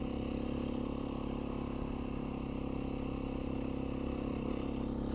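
Continuous low engine drone of a Beta 500 RRS dirt bike being ridden, a steady rumbling hum with constant throttle and some clatter, heard close from the rider's position without talk.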